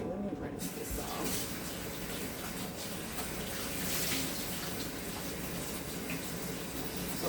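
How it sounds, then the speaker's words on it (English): Tap water runs steadily as an item is rinsed under a faucet, a continuous broadband splashing that goes on for the whole stretch after a brief quieter start. "So let me rinse this off."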